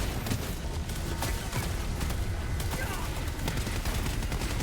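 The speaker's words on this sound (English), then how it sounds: "Definitely the best audio for any assault rifle in the game" Assault rifle gunfire in the Helldivers 2 video game, rapid dense automatic bursts of shots and impacts running continuously, loud and close with a faint voice underneath.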